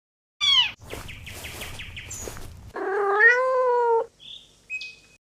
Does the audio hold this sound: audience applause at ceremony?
no